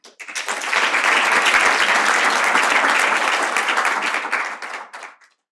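An audience breaks into sustained, steady applause to welcome a speaker to a palliative care lecture, rising quickly, holding for several seconds and tapering off at the end, with no talking.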